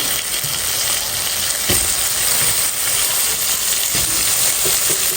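Boiled beef liver, lung and sesame sizzle steadily with spices in a pan, a loud even frying hiss with occasional stirring clinks and scrapes.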